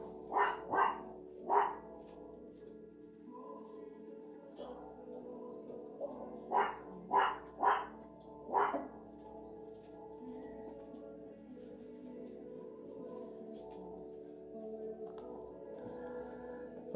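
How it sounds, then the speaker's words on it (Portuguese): A few dogs bark in short bursts, two or three sharp barks, a pause, then several more, sounding at moderate distance over a quiet background with no talk. "você já está acostumado com os cachorros latindo"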